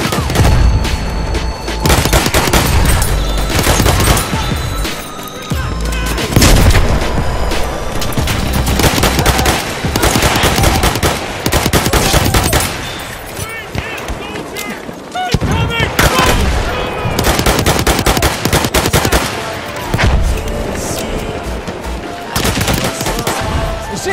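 Machine gun fire in the Battlefield 1 Argonne Forest conquest fills the whole stretch with loud, near-continuous automatic bursts and heavy booms. Shouted game voices come through in places amid the chaotic gunfight.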